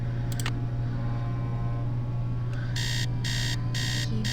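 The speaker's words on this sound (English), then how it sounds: "So I'm gonna set an alarm for 8." An alarm clock rings in the Nancy Drew: Message in a Haunted Mansion video game. It gives four loud, evenly spaced electronic beeps over a steady low background hum.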